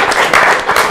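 Brief burst of audience applause at a DJ talk show, dense clapping throughout one second with no voices on top.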